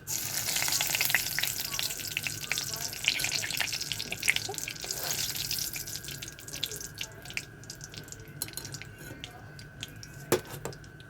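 A bay leaf sizzles in hot oil in a pan for a fish dish, making a steady crackling fry with scattered pops, close up, slowly settling toward the end.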